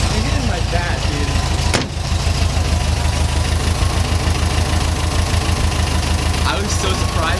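A Porsche 914 engine runs loudly and steadily up close, a rough low idle throughout, with faint voices buried beneath it.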